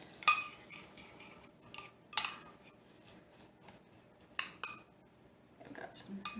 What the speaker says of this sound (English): Stir it around, and I should start to get green coconut.